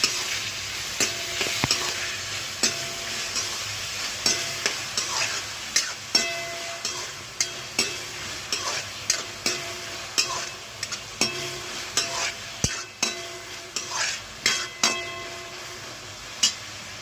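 Tomatoes frying in a pan, a continuous sizzle punctuated by regular sharp scrapes and taps of a spatula stirring against the metal, close and steady throughout.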